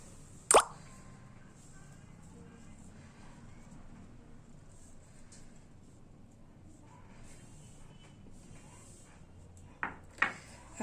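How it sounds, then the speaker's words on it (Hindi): Jaggery goes into a panjiri (chun) prasad mixture for a Satyanarayan katha: a single sharp, close plop near the start, then quiet rustling and a few soft knocks toward the end. "अब मीठा होने पर ये गुड़ डालना है।"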